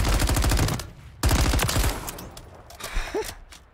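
Rapid automatic gunfire from the Chimera assault rifle in Call of Duty Warzone / Modern Warfare 3, two loud sustained bursts of closely spaced shots separated by a short gap, followed by quieter game sounds.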